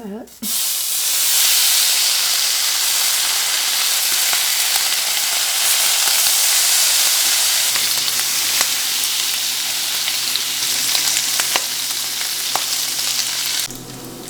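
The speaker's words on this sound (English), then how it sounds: "now I am going to start on the bacon. Same pan." Bacon sizzles and fries steadily in a used pan, a dense continuous crackle that stays loud and close for nearly the whole stretch, with a few sharper pops near the end and no talking.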